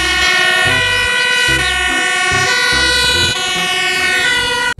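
Toy fire truck siren, a loud electronic wailing tone cycling in a steady repeated pattern with bright harmonics, alone and up close, cutting off abruptly at the end.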